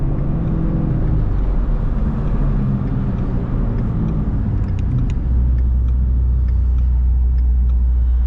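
A 2018 twin-turbo Shelby GT350 with electronic exhaust modes idles with a loud, deep, steady rumble heard from inside the car, the low drone swelling slightly partway through.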